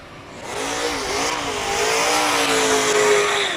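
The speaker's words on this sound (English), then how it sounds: "Glorious sounds of the V8 GT350 Ford Mustang Shelby headed off the track." Ford Mustang Shelby GT350 with a V8 engine revving on a classic car track day, a loud close growl that rises and dips through gear changes, then holds a strong climbing drone as it pulls away.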